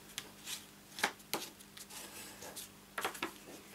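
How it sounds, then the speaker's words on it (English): Scored card stock is folded along its score lines for a freestanding post-it note holder, giving quiet, close crisp paper creases and rustles in scattered bursts, with no talking. "Now we're going to start folding these ones, and again make sure this fold at score line matches up with your cut line."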